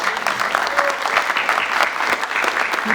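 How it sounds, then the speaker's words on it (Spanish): Audience applause for a guest at a Spanish-language event, a short burst of dense, steady clapping from a crowd with no speech over it. "queremos extender más el aplauso para Jean-Jacques, por favor."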